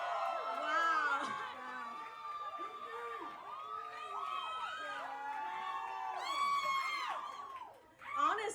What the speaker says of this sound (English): let's hear you scream again, but you guys are already screaming